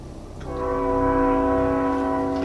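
A train horn sounds in a long, steady blast with a deep rail rumble beneath, heard from some distance outdoors.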